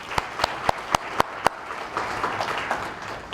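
A few isolated, sharp claps ring out in a slow rhythm at first, then fade into a softer, scattered patter of applause at an awards banquet.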